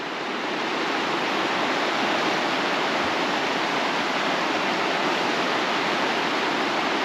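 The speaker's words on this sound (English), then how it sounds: "Love the sound of running water." Running river water near the stone piers of a bridge at Tyne Green Country Park in Hexham, a loud, steady, full-bodied rush that never lets up, with no voices.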